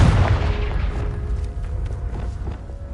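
A Confringo spell explodes in the video game Hogwarts Legacy, a loud booming blast with a low rumbling tail that fades over a few seconds.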